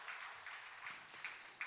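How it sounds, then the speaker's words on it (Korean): Church congregation clapping in welcome during a Sunday service, a brief burst of dense applause at moderate distance with no voices over it. "우리 박수로 환영하겠습니다."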